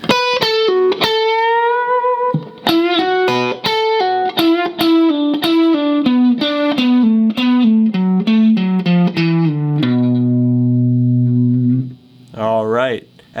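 Electric guitar plays the second solo line from a song: sustained, bent and vibrato-laden distorted notes stepping downward in a loud, continuous phrase, ending on a held low note and a brief higher flourish.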